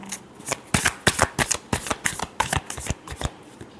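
Tarot cards being shuffled by hand in a quick riffling rhythm, about a dozen crisp bursts of card flutter close up, with no talking over them.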